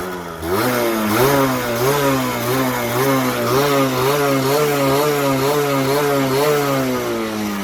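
A 2010 Derbi Senda 50cc motorcycle engine idles close by, a steady buzzing putter with a slight wavering rhythm, loud and continuous.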